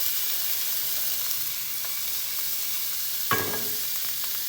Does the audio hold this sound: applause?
no